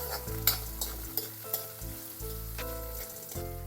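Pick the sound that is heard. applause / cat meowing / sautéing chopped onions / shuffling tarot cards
sautéing chopped onions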